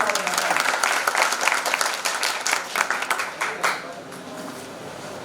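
An audience at a Kaushambi youth self-reliance event breaks into applause, a dense patter of many hands clapping that gradually thins and fades toward the end.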